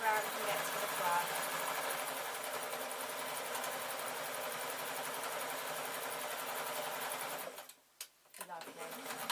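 A sewing machine runs continuously, stitching the last seam of a large decorated shoulder bag with a fast, even motor whir, then stops abruptly near the end with a couple of brief mechanical clicks.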